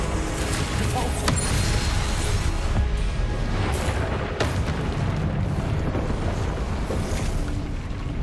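Repulsor spell explosions in Hogwarts Legacy, a dense rumbling series of booms and sharp blasts, loud and continuous, with a few crisp impacts standing out.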